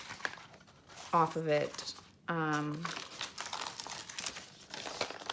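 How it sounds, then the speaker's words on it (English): Crinkly, crackling rustle from glued packaging being pulled apart while unboxing a unicorn item, running steadily under a person's nearby speech. "So the glue, I'm getting this weird crinkly sound"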